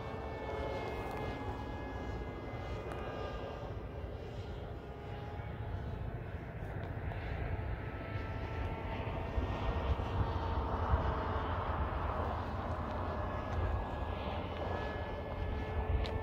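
A radio-controlled pusher-prop model airplane flies overhead on its maiden flight, its motor giving a continuous whining drone that shifts in pitch as it passes, swelling slightly louder midway, with no talk.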